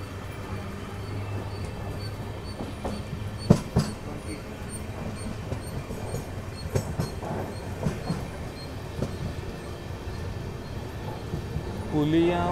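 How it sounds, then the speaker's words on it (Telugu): Tirupati–Chennai Central express train running on the main line as it picks up speed, a steady rolling rumble with rhythmic wheel clatter and occasional sharper knocks throughout, with a voice talking over it. "సో కంప్లీట్ మెయిన్ లైన్లోకి వచ్చేసింది కాబట్టి ఎక్సెలరేషన్ ఇస్తున్నాడు"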